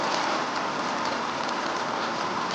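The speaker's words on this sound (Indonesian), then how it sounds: "Udah lama gak main hujan?" Steady rainfall, a dense, even hiss of drops hitting surfaces that holds at the same level throughout with no voices.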